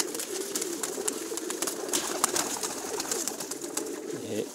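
Pakistani pigeons coo softly and repeatedly at a rooftop loft in a village. A low, steady murmur of cooing is mixed with a little clatter and faint rustling.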